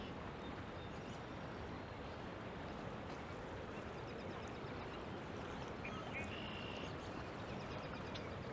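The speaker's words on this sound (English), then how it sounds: "There's some ducks." Ducks quack now and then beside the Humber River in Toronto in March, faint and somewhat distant over a steady wash of flowing water and outdoor noise.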